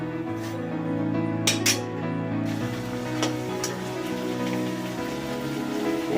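Mango luchi, round puffed flatbreads, frying in hot oil in a home kitchen, a steady close sizzle and crackle with a few faint clinks of utensils and no talk.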